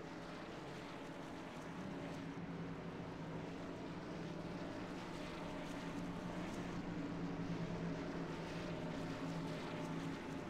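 Engines of race trucks idle and rumble together as the field rolls off in formation for a heat race at Eldora's dirt track, a steady, continuous drone with several motors blending at moderate distance, no talk over it.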